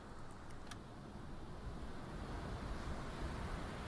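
A ship's engine in the U-boat game Uboat sounds as a continuous low rumbling drone with a windy, sea-like wash over it, steady and unbroken throughout with no speech.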